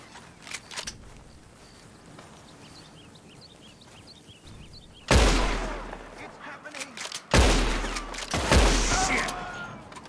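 Gunfire in Red Dead Redemption 2: after a quiet stretch with faint chirps, two loud, close shots crack out a couple of seconds apart, each with a ringing tail.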